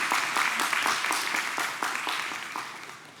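A church congregation at a Sunday service claps to welcome visitors, a dense run of applause with quick rhythmic hand claps that fades slightly toward the end.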